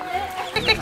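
A chicken clucks briefly up close, a quick pair of sharp, throaty calls.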